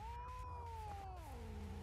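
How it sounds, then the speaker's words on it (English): Several cats meowing in an apartment in the Frightence horror game, a drawn-out, wavering meow close by over a low background hum. "the cat noises. Oh, there's cats, there's so many cats."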